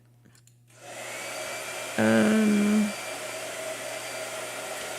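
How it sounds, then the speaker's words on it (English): A blow dryer starts up and keeps running as a steady broadband whoosh with a low hum, with a brief louder burst near the start, and a short hesitant voice heard briefly. "Blow dryer."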